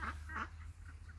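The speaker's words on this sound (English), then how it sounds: "there's our some of the Sebastopol geese" Two short nasal honks from Sebastopol geese sound close together, followed by fainter calls over a steady low engine-like hum.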